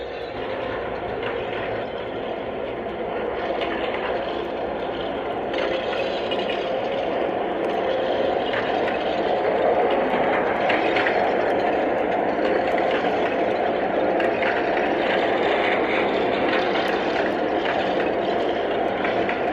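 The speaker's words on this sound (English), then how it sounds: "you'll not only hear the sparking of the pantographs and the light itself, but you'll hear the de-icing sound effect that goes with it" A Lionel VisionLine GG1 model train running in de-icing mode, giving a steady mechanical hum and whir with crackling pantograph sparking and arcing effects layered on top, fairly even throughout and heard alone.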